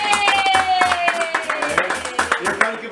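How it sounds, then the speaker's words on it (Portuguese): People clap hands at a birthday party, with irregular near claps layered over a sustained tone, while a voice speaks over the clapping. "É você, que eu peço palmas pra Lauride."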